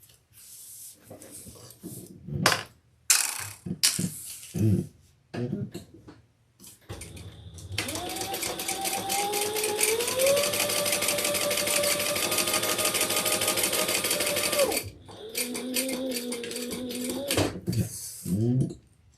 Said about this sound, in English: we'll do some top stitching